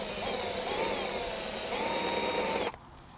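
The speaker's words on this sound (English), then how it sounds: "now we're going to countersink the 2 holes with a slightly larger drill bit" A power drill with a slightly larger bit countersinks two holes in perspex, a steady whining grind running loud and close for almost three seconds before cutting off abruptly into quiet.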